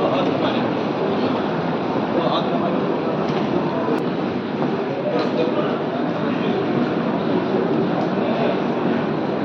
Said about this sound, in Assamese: ৰেলৱে ষ্টেচনৰ এনভাইৰনমেণ্ট।